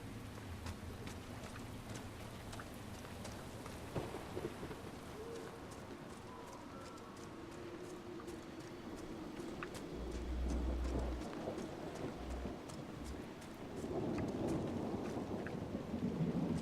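Rain and rolling thunder in the fantasy video game Dragon Age: Inquisition form a continuous, fairly quiet storm bed, swelling louder near the end, with faint bird calls and no speech.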